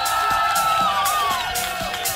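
Crowd at the opening ceremony of the 2017 Yeysk Cup cheering, whooping and clapping for their city, a dense roar with a loud rising shout over rhythmic claps.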